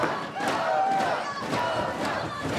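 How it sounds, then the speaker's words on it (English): A packed arena crowd at a women's wrestling trios tag team championship match roars and yells wildly, loud sustained cheering with swelling shouts rising and falling throughout. "This crowd is going wild in here for this Trios Tag Team Championship match."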